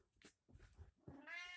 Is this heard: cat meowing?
yes